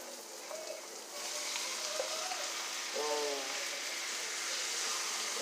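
Shrimp going into a hot pan hiss into a steady, moderately loud sizzle that continues while a voice speaks briefly over it.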